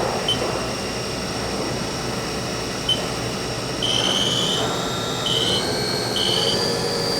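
Haas VF-2B vertical machining center spindle speeding up, a steady mechanical hum with whining tones that step upward in pitch as the speed increases.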